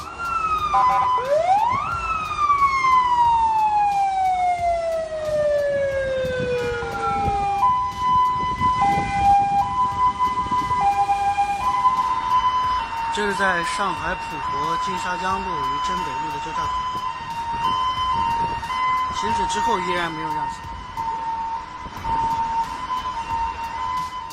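Ambulance siren wailing in heavy traffic in China, loud and near with sweeping tones that shift into a steady alternating two-tone pattern, under continuous talk, with bursts of other sirens and traffic noise mixed in.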